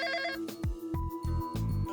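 An office phone rings inside the video game Emio – The Smiling Man, sounding as a synthetic electronic ringtone in short repeated bursts separated by brief gaps, clear and close with no speech over it.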